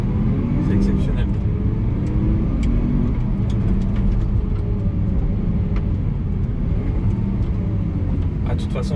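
A Lamborghini Aventador SVJ driven hard, its engine rumbling loud and low with surges of revving from inside the car, while a person talks over the engine noise.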